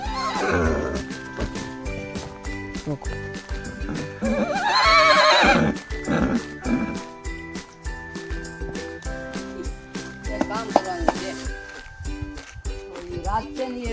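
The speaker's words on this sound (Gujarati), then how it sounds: "આપણે નદીમાં ઘોડાને પકડી રાખ્યો છે।" A bridled horse neighs loudly while held in a river, with snorts and hoof clops around it; a few voices murmur faintly in the background.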